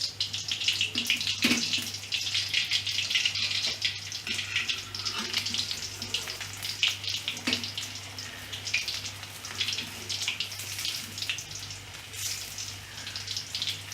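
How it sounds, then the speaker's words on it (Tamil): Pep sticks deep-frying in hot oil in a pan, a steady loud hiss and bubbling crackle that runs the whole time with a few brief clinks, close up and with no talking. "எண்ணெய் கொதித்ததும் பெப் ஸ்டிக்கை தாச்சியில் இட்டு"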